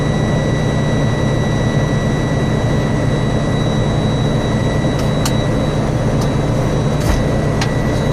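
A truck's air brake system builds pressure, the compressor and idling engine giving a loud, steady, continuous drone with a few faint clicks on top and no talking.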